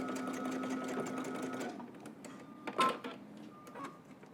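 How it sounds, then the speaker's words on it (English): A sewing machine stitches through the overlapped ends of elastic on a skirt with a steady, quiet whir. It stops after under two seconds, leaving light fabric handling and a few clicks. "overlap them about a 1/2 inch and stitch right in the center"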